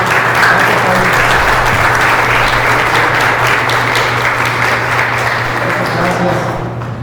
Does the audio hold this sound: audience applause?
yes